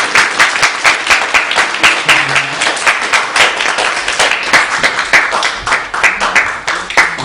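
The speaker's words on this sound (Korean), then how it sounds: "다 같이 박수로 하겠습니다" A church congregation at a Sunday worship service applauds for the week's birthday members, with dense, steady clapping from many hands that stays loud and continuous throughout, with no talk over it.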